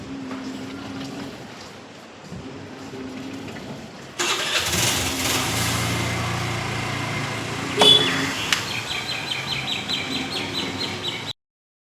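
A scooter engine cranks and catches on a hot day outdoors, then idles steadily nearby at a medium pitch with a brief revving rise, while birds chirp in the background.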